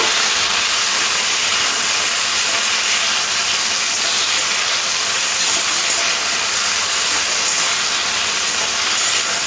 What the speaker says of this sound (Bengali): সবজিগুলো হালকা করে নাড়াচাড়া করে এইভাবে ভেজে নিতে হবে।